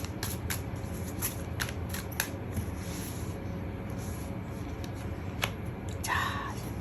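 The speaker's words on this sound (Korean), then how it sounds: "추가 카드를 뽑아보도록 할게요" A tarot deck is shuffled and cards are drawn at close range: soft, crisp card snaps tick out sporadically over a quiet room hiss, ending in a brief papery rustle.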